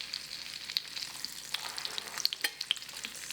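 Breaded camembert fries in a pan, a close, steady sizzle with crackling spits and small pops, some louder bursts standing out toward the end.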